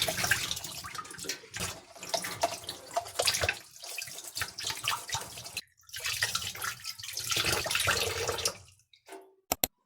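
A puppy feeding bottle being washed under a running tap, with steady splashing water in long stretches, a brief break where the flow stops, then more rinsing that ends in a few scattered drips.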